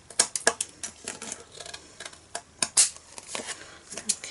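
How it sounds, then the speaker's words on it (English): Scissors snip excess paper from the edges of a handmade card, a string of crisp, close clicks and rustles in a loose, irregular rhythm, with no talking. "We're just going to cut off all this excess that's hanging over the edges."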